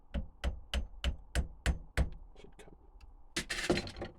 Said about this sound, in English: And then giving this a few smacks with a hammer.